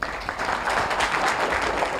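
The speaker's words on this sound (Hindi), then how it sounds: "इनके लिए तालियां हो जाए।" An audience in a madrasa classroom breaks into applause, a dense, steady wash of clapping from many hands, fairly loud and sustained throughout.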